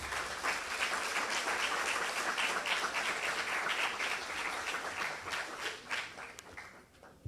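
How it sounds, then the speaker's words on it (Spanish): An audience at a conference on femicide in Peru applauds with dense, steady clapping, moderately faint and even throughout, thinning slightly toward the end. "Un aplauso para nuestro doctor."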